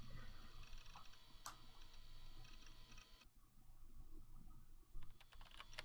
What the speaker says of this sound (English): The only sound reverberating through the room was that of someone tapping at a keyboard.